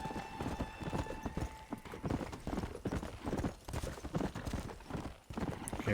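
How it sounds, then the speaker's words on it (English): Horse hooves clip-clop steadily in a video game while the rider steers, the rhythmic hoofbeats running continuously and fairly loud, with occasional whinnies, background game sounds and someone talking over them. "Sometimes the horses on here are so hard to control."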